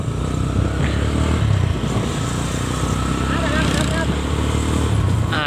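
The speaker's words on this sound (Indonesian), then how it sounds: "Mesinnya kalau belum panas memang gitu dia." A motorcycle engine idles and runs unevenly before it has warmed up, giving a loud, rough, continuous rumble with a faint rattle. People talk over the engine noise.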